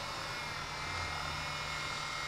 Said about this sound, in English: A remote control helicopter, we can actually let go of the controls for a second